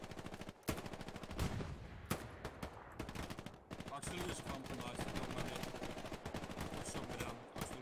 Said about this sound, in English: Machine gunner, put some fire directly on this ping right here